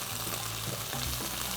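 Cassava leaves stir-fried with salted peda fish in a pan, a steady, loud, dense sizzle with faint scraping from stirring and no voices.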